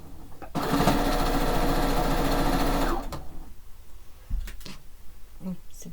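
Sewing machine stitching quilt pieces, running in one fast, loud, steady burst for about two and a half seconds before stopping, then quieter handling sounds follow.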